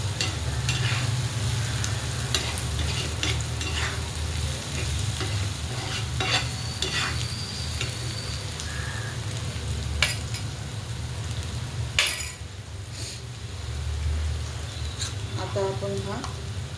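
Garlic, green chili and ridge gourd thecha being stirred and mixed in a pan, a steady scraping of spoon on metal over a continuous low sizzle, with a few sharper clinks along the way.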